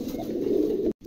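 A pair of moulting White Top pigeons gives one close, steady low coo that breaks off abruptly.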